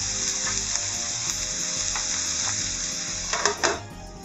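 Cabbage with apples and cumin simmering covered in a saucepan, a low steady sizzle and bubbling with a faint hum, plus a couple of brief clinks of a pot or lid near the end, fairly quiet.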